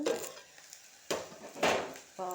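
Okra frying dry in a pan is stirred with a utensil, giving scraping, rustling bursts over a soft sizzle. A voice briefly starts at the very end.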